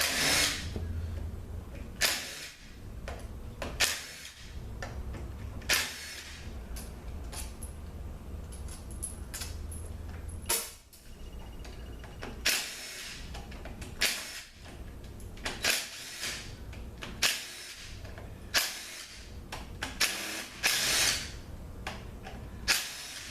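A power tool zips bolts out of a Mercedes 722.9 4Matic automatic transmission during teardown, giving repeated short bursts of whirring and buzzing between pauses, close and fairly loud.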